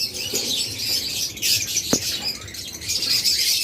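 A pair of caged lovebirds for sale, their high twittering chirps repeating in bursts against a soft background hiss, with a brief tap partway through.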